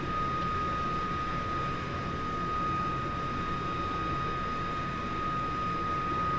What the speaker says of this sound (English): Hold engine start 1 down until I'll tell you to release, bro.